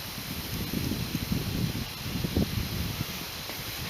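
Steady wind buffeting the microphone with low rumbling gusts and a broad hiss throughout, no voices heard.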